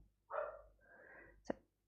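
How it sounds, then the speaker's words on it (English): A dog barks and whines briefly at close range, a drawn-out vocal sound followed by one sharp short bark, alone with no talking. "I'm just going to ignore Khaleesi barking at me"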